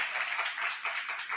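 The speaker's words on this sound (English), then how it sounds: "that definitely deserves a round of applause" A short burst of clapping from a small audience, dense and steady for about a second and a half, at moderate distance with no voices.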